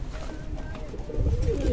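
A pigeon gives a soft, low coo close by, mixed with a person talking over it in a short moment.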